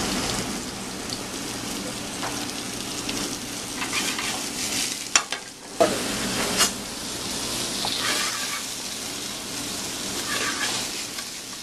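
Garlic cooks in a pan with a continuous close, rain-like sizzle, broken midway by a few louder knocks and clatters, with no one speaking.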